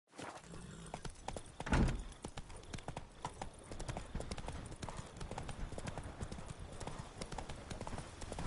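Hooves of Geralt's horse Roach clip-clop steadily across ground in The Witcher 3, a brisk close rhythm of hoofbeats with one louder thump early on and a faint voice underneath.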